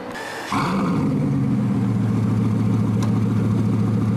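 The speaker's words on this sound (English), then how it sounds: "It sounds amazing with the Mansory exhaust system." A supercar fitted with a Mansory exhaust system fires up on a London street: a sharp starter catch, then a loud, deep, throbbing idle that holds steady close by, with a faint blip midway.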